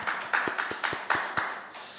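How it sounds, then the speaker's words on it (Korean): Church congregation members clap in glory to God during a Friday worship service: a handful of sharp, separate claps in an uneven rhythm, close by and fairly loud. "우리의 찬양과 기도를 받으신 하나님께 영광의 박수 올려드리겠습니다"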